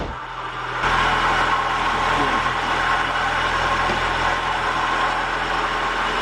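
A Mazda Miata engine, being prepped for removal, starts and settles into a steady, loud idle that runs on to the end, left running until the fuel in the lines is used up.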